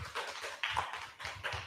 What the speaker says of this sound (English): Give applause, ladies and gentlemen.